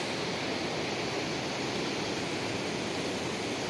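Strong waves surging on a rough sea beneath a cloudy sky with light rain, a boat nearby: a continuous, loud, close wash of surf roar with no pauses and no voices.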